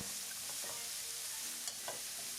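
Onions fry in leftover oil in a pan that just held turkey breast. A quiet, even sizzle carries through, with a couple of light stirring scrapes near the end. No one talks.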